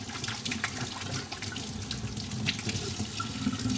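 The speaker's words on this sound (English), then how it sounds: "Give my hands a good wash." A kitchen tap runs steadily while hands are washed under it, a continuous close water rush with small splashes and no talk.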